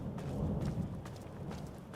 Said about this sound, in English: I really like how I could hear the rain from outside, even though I'm in the interior.